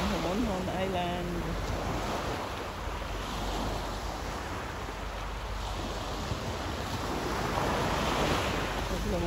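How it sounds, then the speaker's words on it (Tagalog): Steady roar of surf breaking on a white-sand island shore after a typhoon, continuous and broadband, with wind rushing over the microphone throughout; a brief voice-like sound early on. "Lumalaki kasi ang alon."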